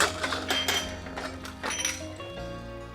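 Metallic clinks and clanks as a pressure cooker lid is worked loose after cooking pongal, a few sharp knocks followed by a faint hiss-like fade, with no voices.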